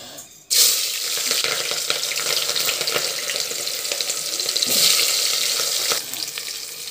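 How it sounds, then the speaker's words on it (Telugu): Mutton pieces frying in hot oil for a cucumber and fenugreek-leaf mutton curry, giving a steady, loud broadband sizzle close by that starts abruptly and runs continuously without voices. "ఇది కలర్ మారే వరకు వేయించుకుందాము."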